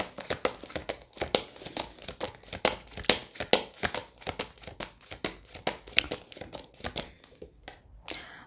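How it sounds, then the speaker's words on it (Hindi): Tarot cards shuffled by hand in a steady run of quick crisp riffles and flutters, close and fairly quiet, with no voices over it. "थोड़ा हम शफल कर लेते हैं"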